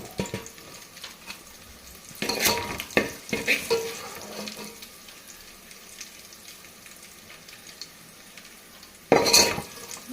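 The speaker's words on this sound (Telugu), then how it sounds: "మెంతుకూర అయితే బాగా ఫ్రై అయింది కదండి" A pan sizzles softly and steadily while a utensil scrapes and clatters against it in several bursts of stirring, close by.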